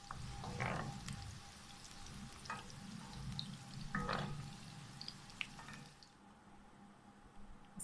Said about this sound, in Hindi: प्याज भी फ्राई हो गई है